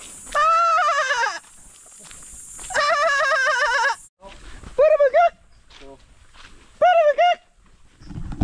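Several loud goat bleats, wavering and nasal, close by, with shorter calls repeating after brief pauses.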